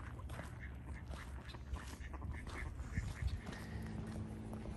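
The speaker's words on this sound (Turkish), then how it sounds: "Bir sürü ördek var, bir sürü." A flock of ducks quacking outdoors in Canada, with a busy stretch of overlapping quacks at moderate distance over a steady background rumble, and faint voices in the background.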